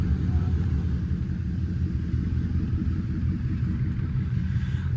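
A Chrysler 300 Scat Pack with a 450-horsepower engine sliding through turns, its deep engine rumble droning steadily throughout at close range, heard from inside the car with a low, constant roar and no clear rev peaks.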